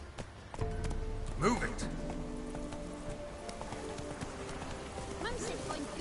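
Roach, the horse in the video game Witcher 3, clops along with steady hoofbeats under soft rain and a game soundscape, while someone shouts briefly over the hooves.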